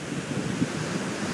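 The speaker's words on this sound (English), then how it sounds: "Sea is quite rough, really rough." Rough sea waves break under strong wind after Hurricane Sandy, a dense, loud wash of surf mixed with gusty wind buffeting the microphone, with no voices.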